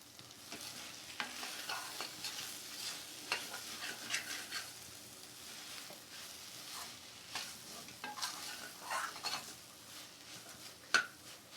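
Okra (bhindi) sautés in oil in a pan with a soft, constant sizzle. A spatula scrapes and clinks against the pan in repeated bursts of stirring.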